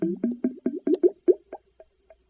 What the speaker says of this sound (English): Whatever gas produced is bubbled through water and collected in a gas jar